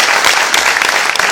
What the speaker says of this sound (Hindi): क्या एक छोटी सी ताली मैं अपने लिए दे सकता हूं?